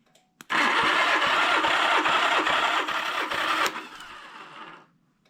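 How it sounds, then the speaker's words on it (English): A restored 1976 Honda GL1000 LTD engine cranks over on the starter during a compression test, a steady rhythmic churning with regular pulses for about three seconds before winding down into quiet. "I've got the engine all back together, and I'm rechecking the compression"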